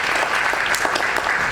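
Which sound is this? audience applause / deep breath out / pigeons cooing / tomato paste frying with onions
audience applause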